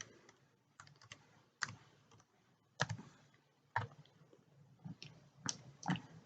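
Typing on a computer keyboard while entering a search in a web browser: irregular bursts of close, crisp key clicks with short pauses between them, no talking.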